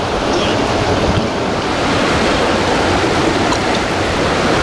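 Gun Creek rushes loudly beneath a bridge, a dense, steady roar of flowing water with no pauses, close to the listener and unbroken by talk.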